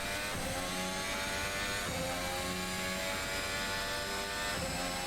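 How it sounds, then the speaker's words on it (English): A Formula 1 mod car in the Assetto Corsa video game screams with a loud, high-revving engine note whose pitch climbs and drops back at each gear shift, sustained with no talk. "listen to the engine note here"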